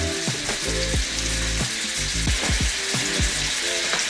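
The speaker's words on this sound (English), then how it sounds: "So we can start basting the steak." A NY strip steak sizzles and spatters in a hot pan while being basted, with steady frying hiss and intermittent clinks and scrapes of a spoon against the pan.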